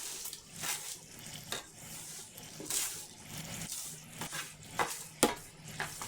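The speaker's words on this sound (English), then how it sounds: "maybe that came across on mic, my finger sizzling there" A wet finger touches a still-warm frying pan in a home kitchen, giving brief, faint sizzles amid scattered clinks and scrapes of cookware.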